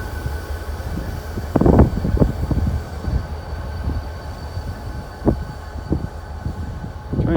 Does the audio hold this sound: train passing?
yes